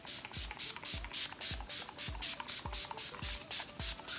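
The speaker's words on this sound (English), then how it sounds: "And then I'm gonna go in with my setting spray." Setting spray misted onto a face in a series of quick, even pump spritzes, roughly two per second, each a short close airy hiss.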